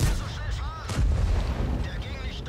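Tank cannon fire in the World of Tanks video game, a heavy booming shot followed by rumbling battle noise and engine hum, with a commentator talking over it.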